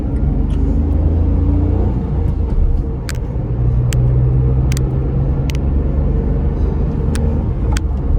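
A 2017 pre-facelift Renault Kwid pulls away and accelerates, heard from inside the cabin as a constant loud engine drone and road rumble with a few faint clicks over it.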